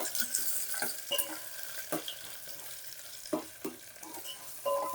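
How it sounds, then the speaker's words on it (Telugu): A tempering of mustard seeds, sliced onion, curry leaves and halved dried red chilli frying in oil for miriyala rasam, giving a continuous crackling sizzle broken by intermittent stirring scrapes and clinks, close and clear with no voices. "కొంచెం పోపు బాగా ఫ్రై అవ్వాలి."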